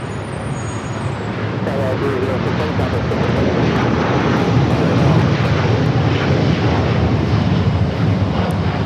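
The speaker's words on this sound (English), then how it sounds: "El Al Flight 6 taking off to Tel Aviv on the 787-9 Dreamliner." An El Al Boeing 787-9 Dreamliner takes off at Los Angeles airport toward Tel Aviv, a loud, broad engine roar that builds and holds steady throughout, with road traffic mixed into the background.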